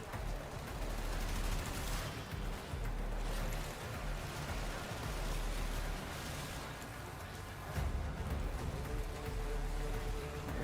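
Sustained hip-fired gunfire from the Warframe video game rattles along in a dense, continuous stream of rapid shots, with brief dips in the firing and no talking.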